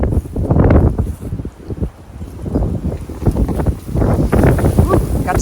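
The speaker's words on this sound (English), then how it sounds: "wind is picking up here" Strong gusting winter wind in a garden buffets the microphone with loud low rumbling, while a person talks through the roar.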